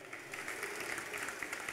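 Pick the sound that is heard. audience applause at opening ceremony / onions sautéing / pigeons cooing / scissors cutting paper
audience applause at opening ceremony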